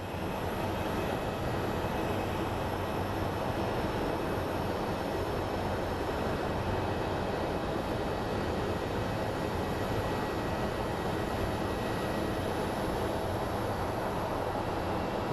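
A Southwest Airlines jet landing at Phoenix Sky Harbor makes a steady, broad engine roar that holds constant and fairly loud, with no talking.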